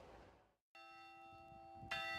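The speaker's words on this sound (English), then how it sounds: "As the church bells chime" Bells of St. Thomas More Catholic Church chime with long, ringing tones after a brief cut, and a fresh strike lands near the end; the sound is quiet and distant.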